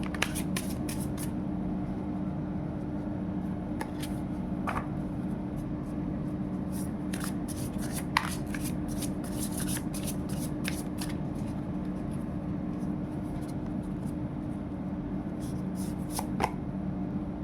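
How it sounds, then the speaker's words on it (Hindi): Tarot cards are shuffled and drawn by hand, with steady riffling and flicking card sounds, crisp clicks and snaps scattered through, close and fairly clear over a low steady hum, no talking. "तो यहाँ पे मैं 2 कार्ड और लूँगी"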